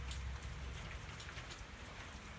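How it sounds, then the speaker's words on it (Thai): Steady rain falls at a rural garden home with a kitchen garden in Khon Kaen, Thailand, a dense, continuous patter and hiss of drops on surfaces, loud and close throughout with no voices. "ฝนตก"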